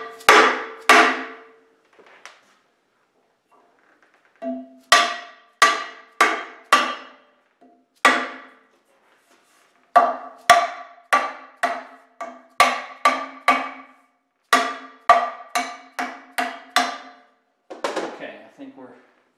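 A hammer whacks a part in a workshop with sharp, ringing metallic strikes, first in small clusters, then in quick runs of repeated blows separated by short pauses.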